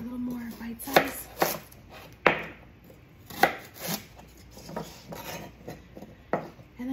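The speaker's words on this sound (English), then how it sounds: "So I'm just gonna cut my celery stalks in half so the pieces are a little more bite-sized." A knife chops celery stalks on a cutting board. About a dozen sharp, irregular thuds and crunchy cuts come close and clear, with quiet pauses between them.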